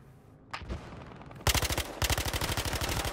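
Automatic gunfire in the video game Battlefield Hardline: a single shot, then two loud rapid bursts of repeated shots that carry on to the end, close and with no voices.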